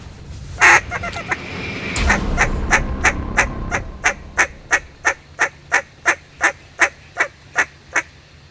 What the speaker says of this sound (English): I don't know if you can hear that roar of ducks in the background